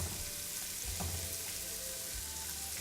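Onions fry quietly in a pan, a soft, even sizzle like light rain that runs throughout with a couple of faint low thumps and no voices.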